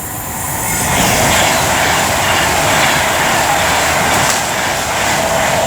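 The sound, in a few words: train 390043 passing Rugeley Trent Valley station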